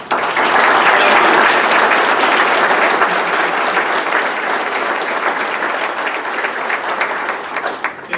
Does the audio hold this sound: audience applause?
yes